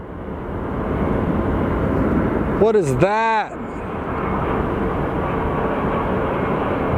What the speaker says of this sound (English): when you hear another plane coming in, you have to look